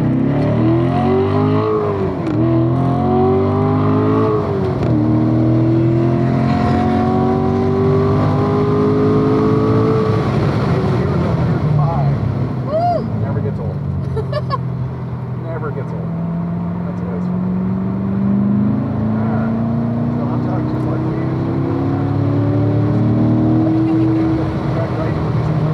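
A race car accelerating on the VIR track, engine revving up through gears with rising and falling pitch, loud and close from inside the car, with people talking over it.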